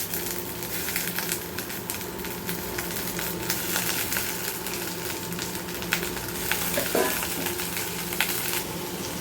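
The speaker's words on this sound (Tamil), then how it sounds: "இந்த ஸ்டேஜில் நம்ம வந்து முருங்கைக்கீரையை போட்டு கொஞ்சம் லைட்டாக வதக்கிக்கலாம்." Onion and drumstick leaves sautéing in a pan, a steady close sizzle and crackle throughout with faint scrapes of stirring partway through.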